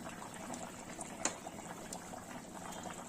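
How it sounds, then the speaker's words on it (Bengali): Hilsa fish curry broth with eggplant boiling vigorously in a pot: a steady, fairly soft bubbling and gurgling with one brief pop, heard alone. "আপনাদের ঝোল ফোটাটা দেখাই এবার খুব জোরে ফুটে উঠেছে"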